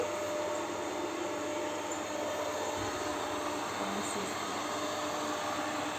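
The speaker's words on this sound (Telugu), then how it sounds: "ఇది వచ్చేసి హౌస్ క్లీన్ చేసేటువంటి మిషన్ అండి" A robot vacuum cleaner runs through a house with a steady, loud motor whir and airy hiss that holds constant throughout, with no pauses.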